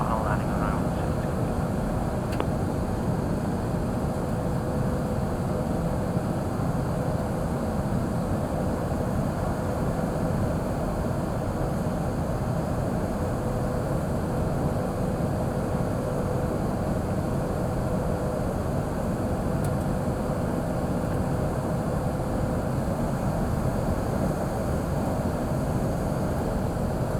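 A heavy jet in a flight simulator game drones on final approach to a bush airfield, a constant, dense engine roar with a broad steady hiss, continuous and unvarying, without talk.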